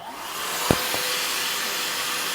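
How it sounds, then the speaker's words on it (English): A Milwaukee Packout vacuum runs steadily with a loud, continuous broadband whoosh, a brief knock partway through, no talking. "I'm gonna hook up my Packout vacuum just so I create a lot less"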